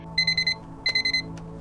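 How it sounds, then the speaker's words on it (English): An alarm clock going off in a small rundown apartment, two bursts of rapid, bright electronic beeps, four or five quick pulses each, separated by a short pause and heard close and clear. "Maya's alarm goes off in a tiny apartment that's seen better days"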